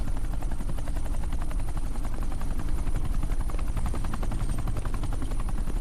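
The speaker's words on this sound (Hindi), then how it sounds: "ये हेलीकॉप्टर सीधे एयरपोर्ट के टारमैक पे लैंड होगा।" A helicopter approaches to land at an airport tarmac in an action movie scene, its rotor making a fast, steady chopping pulse over a droning engine whine, loud and continuous throughout.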